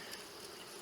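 Honey bees in an open beehive give a faint, steady, close buzzing hum that holds without a break for under a second, with no voices.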